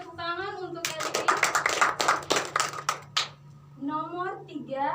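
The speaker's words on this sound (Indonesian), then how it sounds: "Oke, tepuk tangan untuk kita semua." A small classroom group gives a short round of applause during a microteaching lesson, a burst of close, fairly sharp claps lasting about two seconds between bits of a speaking voice.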